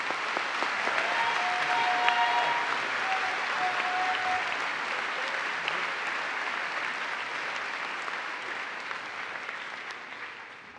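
A commencement crowd gives the graduates another round of applause, a sustained dense wash of clapping with a few whistles, loud at first and slowly tapering over about ten seconds.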